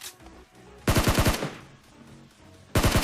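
A Thompson submachine gun fires in PUBG Mobile in two short, sharp automatic bursts of rapid rounds. Quieter game ambience fills the gap between the bursts.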